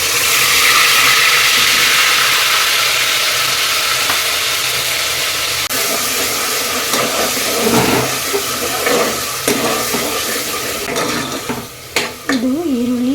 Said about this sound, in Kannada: ಈರುಳ್ಳಿ, ಬೆಳ್ಳುಳ್ಳಿ ಮತ್ತು ಕೊತ್ತಂಬರಿ ಸೊಪ್ಪು 1 ಸ್ಪೂನ್ ಅರಿಶಿನ ಹಾಕಿ ರುಬ್ಬಿಟ್ಕೊಂಡಿದ್ನಲ್ಲ ಅದನ್ನು ಇವಾಗ ಎಣ್ಣೆಗೆ ಹಾಕ್ಕೊಂಡಿದ್ದೀನಿ.